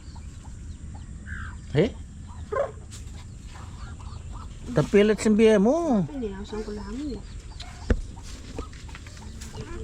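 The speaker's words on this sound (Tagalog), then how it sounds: "mga manok na yan" Chickens cluck and squawk around a farmyard near a hen sitting on eggs, with short clucks and one longer wavering call, heard under people talking casually nearby.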